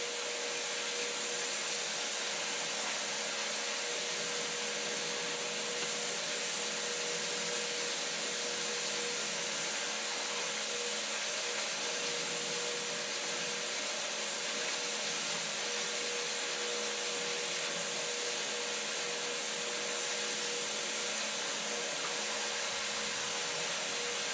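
Brass brush scours parts of a 1948 Harley Davidson WL Flathead 45 engine, producing a steady, unbroken whirring scrub with a faint tonal hum throughout and no talking.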